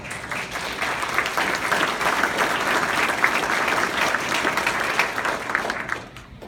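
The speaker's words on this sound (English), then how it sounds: "And thank you for that applause." A crowd at a Donnell Fire town meeting applauds firefighters, dense sustained clapping for about six seconds before quickly dying away.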